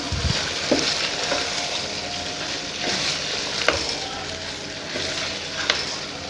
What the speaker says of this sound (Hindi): ये ऐड कर देंगे ताकि इसके साथ ही ये भी इसकी भी भुनाई हो सके